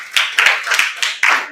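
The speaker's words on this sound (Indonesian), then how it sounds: "Ini tepuk tangan." A few bursts of hand clapping in a classroom setting, short groups of claps repeating roughly every fraction of a second, close and fairly loud, with a hint of voices mixed in.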